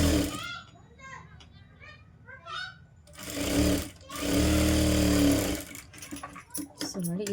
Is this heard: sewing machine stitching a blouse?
yes